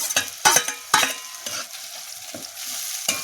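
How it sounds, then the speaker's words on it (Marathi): Chopped onion sautéing in a hot tempering of oil with cumin, mustard seeds, ginger and garlic, stirred in bursts with a spoon scraping the pan over a steady close sizzle. "कांदा पण थोडासा परतावून घ्यायचा."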